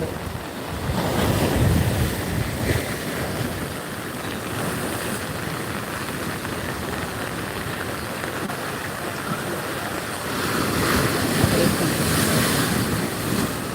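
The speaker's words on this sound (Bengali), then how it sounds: "বৃষ্টির সাথে সাথে দেখতেই পাচ্ছ আজকের ওল্ড দীঘা সমুদ্র সৈকতের সেই ভয়ঙ্কর রূপে তৈরি আসা সমুদ্রের ঢেউ" Heavy sea waves break on Old Digha beach during rain, a continuous roaring surge that swells in loud rushes, mixed with strong wind buffeting the microphone and no voices.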